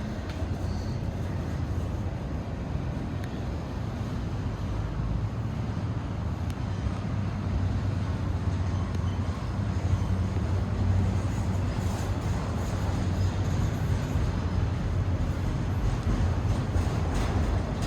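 A heavy Norfolk Southern intermodal freight train rumbles steadily past at close range on a bridge, a continuous low roar of wheels and cars with no pauses, loud throughout.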